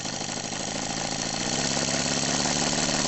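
A Stuart D75 V steam engine running on compressed air chugs steadily with a fast, even mechanical beat, loud and close, picking up slightly in pace and volume.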